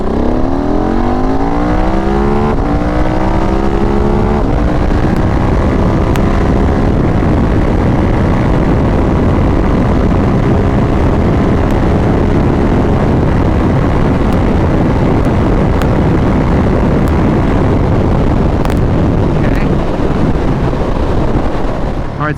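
A 2023 GasGas SM 700 supermoto motorcycle pulls hard from a second-gear start, 20 to 100 mph, its engine note climbing steeply through the gears under heavy, constant wind roar for over twenty seconds.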